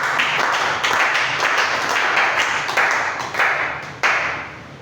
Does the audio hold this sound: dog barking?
no